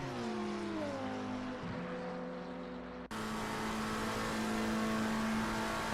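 A GT2 race car in a racing video game screams down a long straight at the Nordschleife, its engine note climbing steadily through the gears with a brief shift dip, loud and continuous with no talk.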